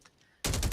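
Argus shotgun blasts in Call of Duty Mobile, sudden loud gunfire bursting in after a quiet moment and repeating rapidly to the end.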